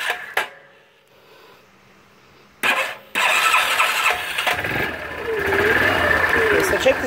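A 2000 Yamaha Kodiak 400 automatic ATV cranks with a couple of short bursts, then catches and settles into a steady mid-pitched idle with a whining squeal, while a person talks nearby.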